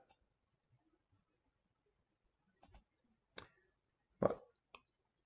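A computer mouse clicking while working in Office 365 software, a few sparse, dry, close taps spread over quiet room tone, the loudest near the end, with no talking.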